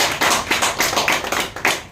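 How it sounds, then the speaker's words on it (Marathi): A crowd claps at a village felicitation ceremony honouring a police inspector's promotion, loud and close, with uneven bursts of hand claps running through the whole stretch. "त्या आईबापांसाठी आता जोरदार टाळ्या झाल्या पाहिजे."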